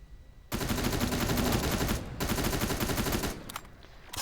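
Red plasma turrets firing in the Terminator Resistance video game, a dense sustained burst of rapid gunfire that drops out briefly, resumes and then breaks off in short bursts.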